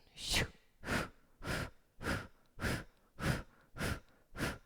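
Eight forceful, evenly paced exhales, snapped out through the nose during a breathing exercise in a hot yoga class; the bursts are close and fairly quiet, with brief pauses between them.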